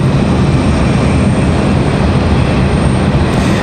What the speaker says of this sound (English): United at 2645 headed off to Newark, New Jersey. That's 737-900.